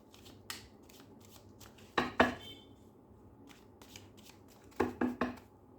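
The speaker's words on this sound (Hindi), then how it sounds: "इसमें से एक कार्ड निकाल रही हूँ" Tarot cards rustle and flick in two short bursts of shuffling and drawing, close and soft in a quiet room with no talk.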